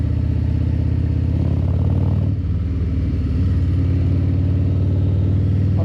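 A Harley-Davidson motorcycle engine runs close by with a deep, throbbing low-end rumble, rising as the throttle opens, briefly easing, then pulling steadily again; no voices.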